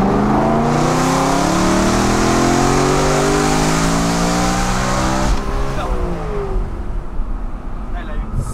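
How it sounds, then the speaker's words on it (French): A naturally aspirated car engine revs hard and high toward 8,500 rpm, pitch climbing steadily as it accelerates, then shifts and rises again, loud and close. "La voiture elle prend 8500 tours."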